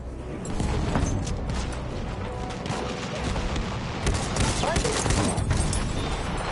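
Howler rifle gunfire in Battlefield 1 sounds as rapid automatic bursts amid dense battlefield noise and distant explosions, steady and loud throughout.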